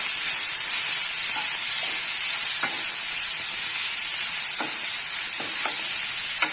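Plantain curry sautés in a pan with a bright, steady hissing sizzle, broken by a few soft taps and scrapes of stirring.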